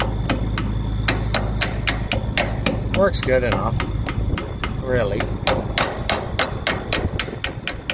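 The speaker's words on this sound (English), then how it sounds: "So I did the right thing and grabbed the hammer." Steady, evenly spaced metallic hammer blows ring out on the stirrer or agitator of a farm machine during canola and wheat harvest, loud and close, with someone speaking briefly partway through.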